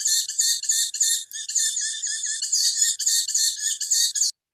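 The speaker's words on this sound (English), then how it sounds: "So it's not a bat, but actually they are tawny owl chicks." Tawny owl chicks give a long series of loud, close, hissing-rasping calls in rapid rhythmic bursts with barely any gaps, captured on a bat-detector recording, then stop abruptly.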